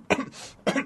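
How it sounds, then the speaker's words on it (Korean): A person with laryngitis gives two short, startled throat-clearing coughs, close and dry, separated by a breathy pause. "막 놀라서 헛기침하는 것"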